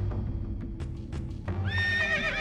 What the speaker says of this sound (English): Oh, look at him, riding a horse indoors.